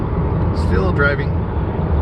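Steady low road rumble fills the inside of a moving car, with a voice briefly heard over the constant engine and tyre drone.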